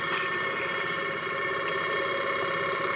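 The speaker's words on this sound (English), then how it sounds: "this is a Neuman motor. It's built in a piece of sewer pipe." A homemade Neuman motor with a commutator, built inside a piece of sewer pipe, runs with a continuous steady buzzing hum and fine rattling vibration, close and unbroken, with no voices.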